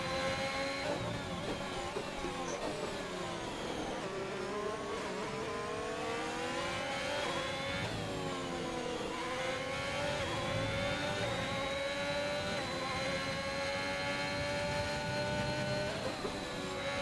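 F1 racing car engines at Belgium's Spa circuit, a steady high whining drone that rises and falls with gear changes and acceleration throughout, several cars close together, with no talking.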